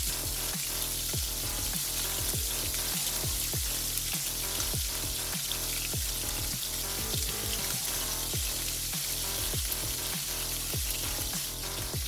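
A chuck blade steak sears in a hot pan, giving a loud, continuous sizzle and crackle with rapid popping spatters throughout, close up and with no voices.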